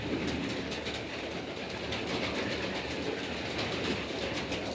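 Pigeons coo and rustle inside a dovecote housing Iranian and Dagestani broad-tailed birds, a dense, continuous murmur of many birds close by with no talking.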